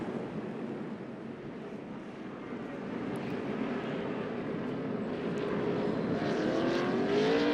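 NASCAR Cup Series race cars rumble onto pit road at Martinsville Speedway, a dense, steady engine roar that swells gradually over several seconds without any talk.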